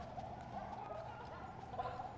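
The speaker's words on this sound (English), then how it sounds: "All I hear is chickens." Chickens cluck in the video game Sable, giving soft, scattered clucks and gobble-like calls against a quiet, faint background.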